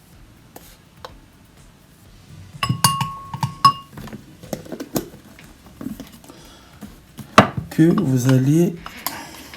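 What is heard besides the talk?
spoon mixing coffee grounds for a face mask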